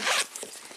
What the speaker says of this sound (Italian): un'altra tasca con zip